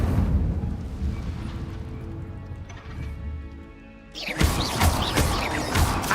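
A fiery Incendio spell erupts in Hogwarts Legacy, a sudden loud crackling burst of flame that crashes in after a low rumbling stretch and keeps roaring with sharp flickering bursts.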